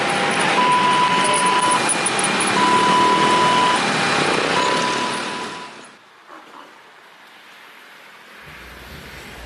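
Road vehicles pass a railway level crossing on a sugar-cane plantation line in a loud, broad rush of traffic noise with steady beeping tones. After about six seconds the noise falls away and only a quiet background remains.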